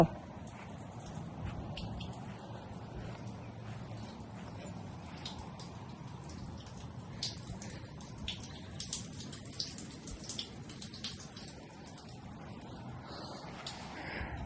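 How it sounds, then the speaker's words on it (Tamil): Water flows continuously through a town's drainage system in a rainy area, a steady rushing trickle outdoors with faint background noise and occasional sharper splashes. "இங்க வந்து இந்த ஊர்ல நிறைய ரெயின்ஸ் வர்றதுனால எல்லா இடத்துலயும் ரொம்ப வெல் பிளான்டு ட்ரைனேஜ் சிஸ்டம் இருக்கு"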